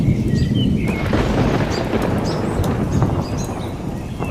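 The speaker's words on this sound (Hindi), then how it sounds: "बिजली के साथ बारिश तेज हो जाती है।" A thunderstorm over farmland, a loud rolling rumble of thunder under heavy rain, with scattered bird chirps cutting through the downpour as the roar slowly eases.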